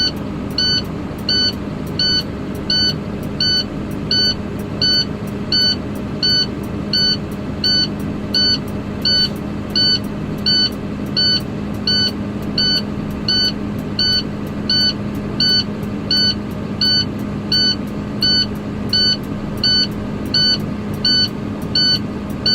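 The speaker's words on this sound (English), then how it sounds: "I can start my engine. I'll accelerate until 15, so the air compressor will work faster and build up the pressure faster" A truck engine idles steadily with a low hum while a regular warning buzzer beeps in a fast, even rhythm throughout, loud and close inside the cab during a CDL in-cab inspection.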